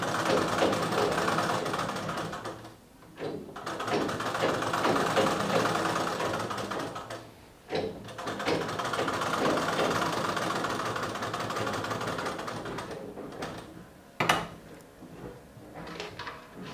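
Sewing machine stitching a blouse, running in long steady bursts with brief pauses and sharp clicks between runs.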